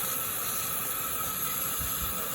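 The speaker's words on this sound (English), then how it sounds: "Turn the injector steam on. The injector's working, so it's good." Steam hisses steadily from the injector of an NSW Z18 class steam locomotive, a loud, close, continuous broadband rush with low rumbling underneath.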